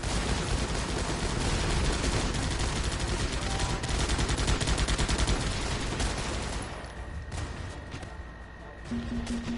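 Dense, continuous gunfire from a squad-based video game battle in Guns Up, with rapid overlapping shots and bursts filling the first several seconds before thinning out, followed by a short tonal game sound near the end.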